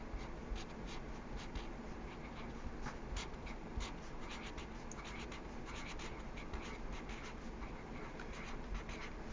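Pencil writing a name on paper, a steady close scratching with short strokes and brief pauses, faint and continuous with no talk.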